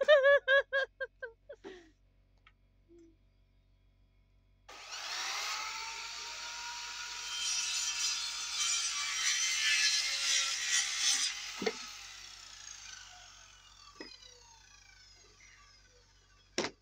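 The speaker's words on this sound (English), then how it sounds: "I'm doing 15 cuts of that right now" A power saw cuts boards for framing walls, a sustained loud whining cut of about seven seconds with grinding texture, preceded by brief speech-like bursts and followed by a few faint clicks and knocks.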